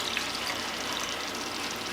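Sausages sizzle in a pan for Puerto Rican yellow rice, a soft continuous crackling hiss with light pops, fairly quiet and steady throughout.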